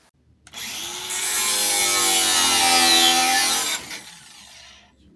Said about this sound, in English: he's wielding an angle grinder and I'm going to stand well back